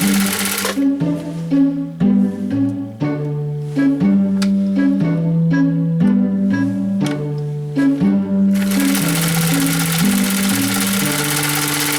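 Husqvarna Viking CL21A sewing machine running in steady, even bursts of stitching, its mechanical hum and tick close and fairly loud, with short pauses between runs and no talk.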